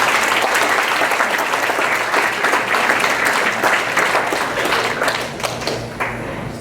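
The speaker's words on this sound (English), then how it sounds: "can we have a round of applause for these seniors?" An audience at a school awards evening applauds the seniors, a steady wash of dense clapping from a crowd in a hall that holds strong and then begins to thin out toward the end.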